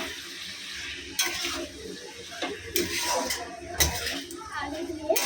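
Dried fish (shutki) cooking with potatoes in a pan: soft sizzling under intermittent scraping stirs and clinks of a utensil against the pan, close by with a voice talking.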